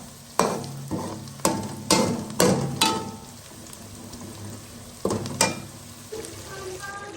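Food sizzles in a pan with repeated stirring and scraping strokes, a steady frying hiss underneath the clatter of utensils.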